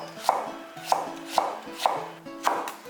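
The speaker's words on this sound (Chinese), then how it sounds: "莴笋来把它切成丝。" A knife cuts celtuce into thin shreds on a cutting board, five crisp, evenly spaced chops heard up close with quiet gaps between them and no voices.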